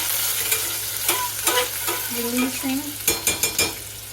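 Spice World garlic frying in a teaspoon of bacon grease, a bright continuous sizzle with a few stirring scrapes and a quick run of sharp taps near the end.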